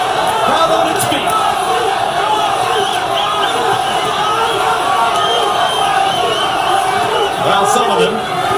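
Boxing arena crowd roaring and cheering at a James Toney vs Vassiliy Jirov fight in a small room, a dense, loud, continuous wall of voices with occasional shouts rising above it.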